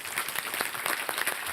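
Applause from the audience at a Mangalagaur celebration as a company director is invited onto the stage; a steady, dense clatter of many clapping hands fills the short stretch without a break.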